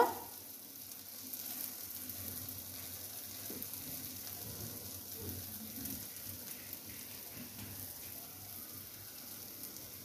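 Ground chilli, turmeric and coriander spices fry in a pan of hot oil while making mung dal with fish head, a soft steady sizzle running throughout at moderate level with faint stirring noises.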